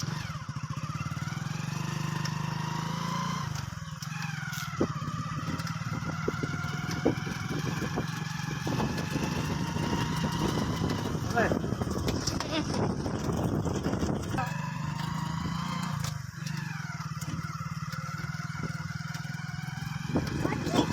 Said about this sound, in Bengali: এ আয়াত, আমরা বাইকে এখন ঘুরতে যাচ্ছি।